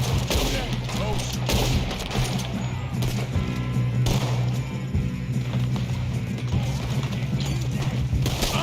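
Gunfire in Red Dead Redemption 2 during a fight around a train car, steady overlapping shots and clatter under ongoing game sounds, with people talking throughout.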